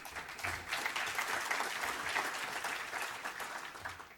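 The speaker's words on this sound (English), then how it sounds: "We'll get a little applause" Quiet applause from an audience at a poverty policy conference, a soft continuous patter of clapping heard from a distance, fairly even and gently fading toward the end.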